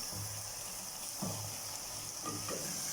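Chicken pieces dropped into a pan of garlic-ginger paste for achari chicken, a steady hissing sizzle with a couple of brief bursts of louder frying and stirring, close and continuous throughout.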